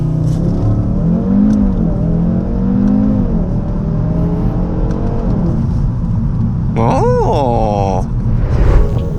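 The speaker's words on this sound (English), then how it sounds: "foot to the floor, and then launch when you go" A Mazda Miata launches at full throttle, its engine roaring loud and steady close by, with a sharp rising squeal near the end.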